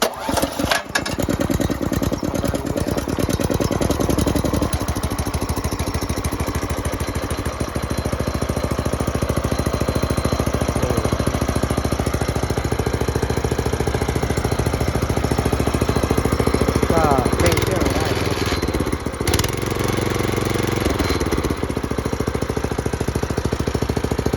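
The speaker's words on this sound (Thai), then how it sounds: "วิธีการติดเครื่องนะครับก็เปิดสวิตช์มาที่ตำแหน่งออนนะครับ" A small multipurpose walk-behind farm tractor engine is pull-started after the fuel tap and choke are set. It catches with sputtering bursts, then settles into a loud, steady, rapid single-cylinder chug that runs close to the mic throughout.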